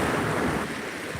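Tidal water rushes into a coastal inlet at Bethany Beach during flooding from Hurricane Erin, giving a steady broadband roar of current and surf mixed with wind buffeting the microphone, close and continuous for about a second.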